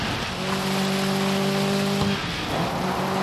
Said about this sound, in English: I thought I'd let you guys listen to the engine